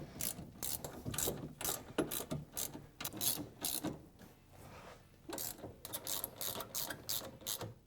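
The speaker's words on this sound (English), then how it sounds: "we have 5 bolts on the steering shaft that we need to tighten down" A ratchet tightens the bolts on the steering shaft of a Polaris RZR 570 or 800 during an electronic power steering kit install, giving quick bursts of clicking strokes in several runs, fairly close and alone.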